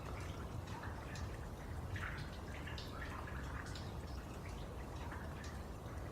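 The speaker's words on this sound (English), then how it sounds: "Okay, dripping on the left, dripping on the right." Water dripping in a dark cave in the game The Tower: scattered, irregular drips over a low, steady wash of background noise, soft and fairly close, with no voices.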